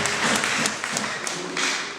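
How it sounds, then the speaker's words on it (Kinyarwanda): Congregation applause at a church wedding ceremony, a dense sustained wash of many hands clapping together at steady loudness with faint speech beneath. "Reka tumuhe amashyi menshi cyane."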